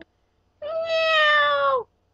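A cat gives a single clear, drawn-out meow of a little over a second, loud and close against near silence.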